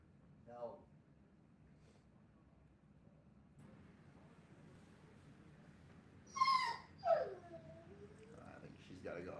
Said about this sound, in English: She usually don't whine unless she's got to go out.